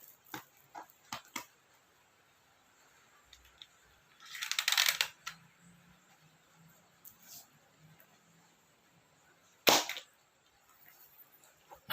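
Gunshots aimed at a red target ring sound as a few sharp, isolated cracks spaced seconds apart, mostly faint with one louder burst, over a quiet background with light scattered clicks.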